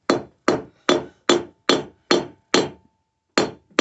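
Sharp metallic hammer blows strike a mokume gane billet of 14k white gold and sterling silver, eight evenly spaced close hits with a short pause before the last ones.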